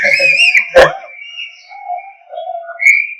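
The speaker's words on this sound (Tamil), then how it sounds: "அவரு ஒரு விசில் அடிங்க" An audience at a Tamil speech event whistles loudly and shrilly, with several overlapping wavering whistles and one sharp knock partway through; no talking is heard.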